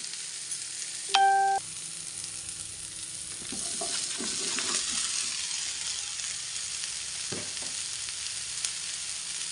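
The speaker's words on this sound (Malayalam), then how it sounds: "ഈ ടൈമിൽ നമുക്ക് കഴുകി വൃത്തിയാക്കി വെച്ചിരിക്കുന്ന കോളിഫ്ലവർ ഇതിലേക്ക് ചേർത്ത് കൊടുക്കാം" Washed cauliflower tips into a pan of sizzling tomato masala, a faint steady frying hiss with a brief tonal ding early and soft stirring clatters in the middle.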